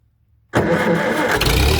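A vintage International Harvester or John Deere tractor engine cranks and fires after half a second of near silence, catching abruptly and settling into a loud, rough running roar up close.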